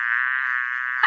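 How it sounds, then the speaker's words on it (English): A bee buzzes close by in a garden, a steady thin whining drone that holds for about a second before a brief rustling thump cuts in at the end. "There was a bee on you."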